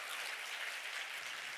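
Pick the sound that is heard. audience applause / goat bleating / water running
audience applause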